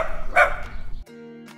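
A human voice imitates a puppy's bark with a quick, bright yelp, followed by a short sustained musical tone.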